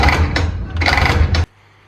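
A Land Rover starter motor with its pinion catching on the flywheel teeth: two loud, close bursts of grinding, whirring cranking, each cut off abruptly, ending in near silence.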